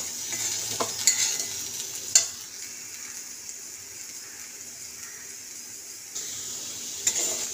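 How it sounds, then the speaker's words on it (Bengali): Potatoes for aloo posto sizzle steadily as they fry in a pan, with a few spoon scrapes and clinks from stirring. There is no talk over the frying. "ভেজে নিতে হবে।"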